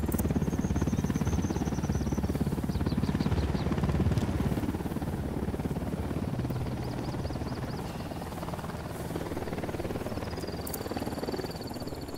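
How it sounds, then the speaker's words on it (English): A helicopter's rotor thumps and engine drone fill the scene in Tom Clancy's Ghost Recon Wildlands, loud at first and gradually fading, with occasional electronic beeps. "Hit the dirt. Helicopter."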